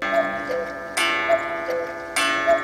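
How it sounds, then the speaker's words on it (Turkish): Cuckoo clock sounding in a quiet room, two bright chiming calls about a second apart with soft ticking between, clear and fairly close. "guguklu saatin sesi duyuldu"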